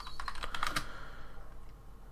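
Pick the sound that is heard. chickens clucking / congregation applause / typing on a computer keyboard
typing on a computer keyboard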